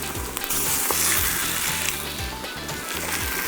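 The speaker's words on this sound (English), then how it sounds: "Now in goes my beef." Beef strips hit a hot pan for a stir-fry and sear with a bright, close sizzle that holds steady the whole time, with a few clinks of stirring underneath.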